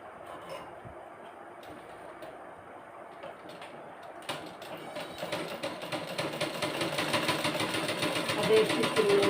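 A sewing machine stitching cloth starts up partway through and builds into a close, steady mechanical whir that grows louder toward the end, while someone talks over it.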